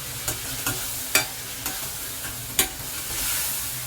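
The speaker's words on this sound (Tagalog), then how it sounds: "pwede na natin ilagay yung munggo" Mung beans tipped into a pan and stirred for a Filipino monggo dish with shrimp, giving a series of sharp scraping clicks every half second or so over a low sizzle, close and fairly quiet, with no talk.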